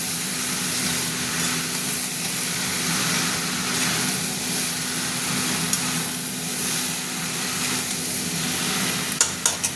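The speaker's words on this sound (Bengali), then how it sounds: "মোচাটা দিয়ে একটু নাড়বো। মশলাটা কষা হয়ে এসছে, তারপরে মোচাটা দিলাম।" Banana flower being stirred into fried, cooked-down spices in a pan, a steady continuous sizzle with soft scraping under it, a low hum throughout and a few sharp clinks near the end.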